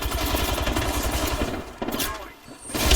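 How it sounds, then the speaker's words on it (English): Rapid automatic gunfire in the Apex Legends video game, loud and continuous bursts for about two seconds, then a brief pause before more shots and impacts. "Taking fire, brothers."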